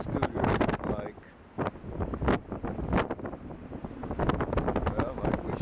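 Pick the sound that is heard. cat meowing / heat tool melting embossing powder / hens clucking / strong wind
strong wind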